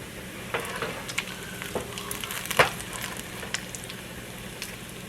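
Bacon crisps in a pan with a steady close sizzle, scattered pops and crackles rising and falling, and no one talking.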